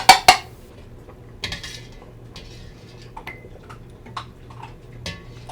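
A sieve spoon knocks and scrapes against a pot while skimming fat off white turkey chili, starting with two sharp clanks and followed by quieter, sparse scrapes and taps, close by with no voices.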